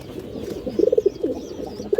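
Young pigeons of a pure pair coo softly nearby in a few short, breathy bursts over a low ambient murmur.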